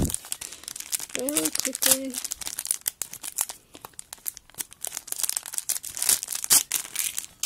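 Crinkly plastic packaging around a gold tinsel trim is torn and crumpled open in bursts of rustling and crackling, while someone talks over it.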